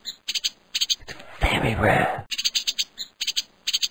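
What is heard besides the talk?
yellowfinch warbler calling in a cartoon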